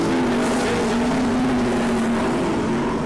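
Sprint cars race on a speedway track during a heat, with a loud, continuous high-revving engine roar that holds a strong steady drone throughout, close and dominant.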